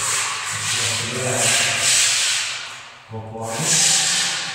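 Sandpaper rubs back and forth over Dulux Multi Filler patched on a wall, a close, steady rasping hiss with a brief pause before the strokes resume.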